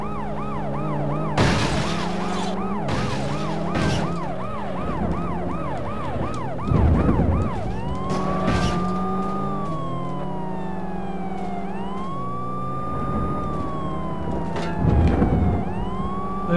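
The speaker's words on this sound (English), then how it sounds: "There's a police car, like, coming at full speed." A wailing police siren from the video game World's Scariest Police Chases cycles loudly and continuously, sweeping up and down, with engine roar and occasional bursts of impact noise.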